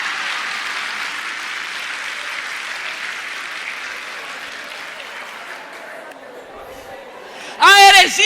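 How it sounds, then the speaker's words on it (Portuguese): An audience at a Catholic religious talk claps in a sustained round of applause that gradually fades. A voice cuts in at the end. "Agora você pode aplaudir, porque eu não estou falando de você."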